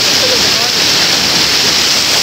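Spring water and a river flow near Awike Resort in Calauan, Laguna, a loud, dense hiss of rushing water filling the whole clip without pause.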